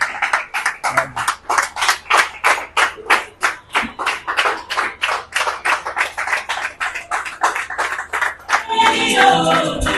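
Audience at a trophy ceremony applauding steadily, dense rapid claps filling the room for most of the stretch before the clapping thickens into a broader, noisier burst near the end.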